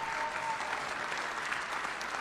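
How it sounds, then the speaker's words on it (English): Steady, close audience applause at a hall of fame induction ceremony, even and sustained for a couple of seconds with no voices above it. "please give them a round of applause"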